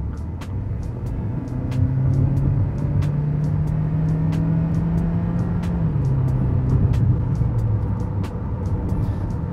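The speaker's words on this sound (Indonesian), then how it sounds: "Dengan kecepatan 70, kita coba akselerasi ya dari 70 km/jam." A Kia Seltos SUV in sport mode accelerating from 70 km/h, its engine drone rising steadily in pitch before dropping about two-thirds through, under road rumble with a regular light ticking throughout.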